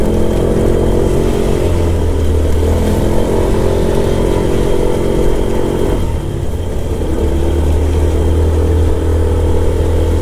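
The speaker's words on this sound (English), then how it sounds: "My moped is screaming." A small moped engine strains loudly and steadily up a steep hill in suburban Tokyo, whining at high revs as it climbs, with a brief dip before pulling hard again.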